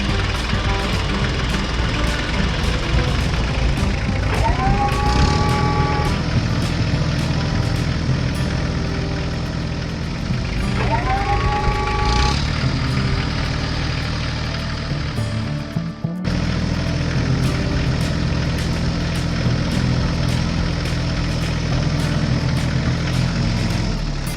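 A tractor engine runs steadily with a deep, continuous rumble, close by, hauling a load of gravel on a farm, with occasional rising and falling whines as it works.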